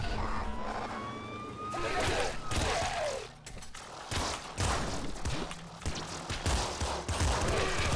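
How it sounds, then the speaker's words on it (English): A quad machine gun in the game Nuclear Throne fires in rapid, dense bursts, layered with explosive game effects and brief gaps, while a voice talks over the action. "So we'll keep rolling with the quad machine gun."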